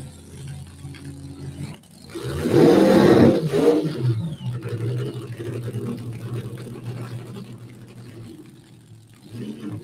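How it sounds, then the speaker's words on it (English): A Street Fuel Coupe drag car at Mo-Kan Dragway does a short burnout, its engine erupting into a loud, harsh roar for about two seconds, then settling into a lower rumbling idle that continues to the end. "And looks like he is bringing it forward for a short burnout."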